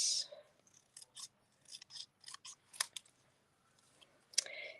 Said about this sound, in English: we will just cut this